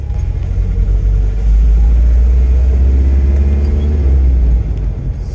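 A 1984 Datsun 4x4 engine rumbles steadily with the throttle feathered, a loud deep low drone from inside the cab that swells slightly mid-way and eases near the end.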